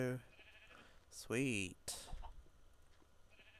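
Sheep bleating in Minecraft among pigs, chickens and cows, a single wavering bleat in the middle, with a brief spoken word and other faint farm-animal sounds around it.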